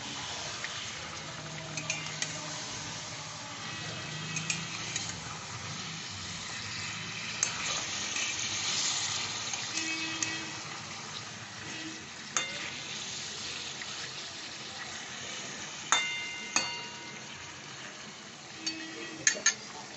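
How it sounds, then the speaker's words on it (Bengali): Chicken for a reshmi curry sautés in a pan, a continuous soft sizzle with occasional scrapes and light clinks from stirring, fairly quiet and close, with no talking. "এটা কষে নেব খুব ভালো করে।"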